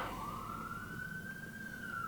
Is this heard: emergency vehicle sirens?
yes